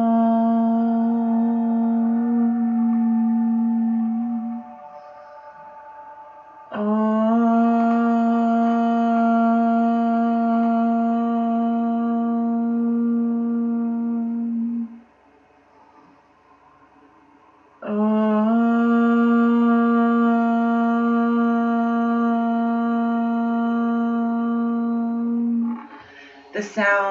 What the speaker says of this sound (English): I learned when you ohm, which is the primordial sound.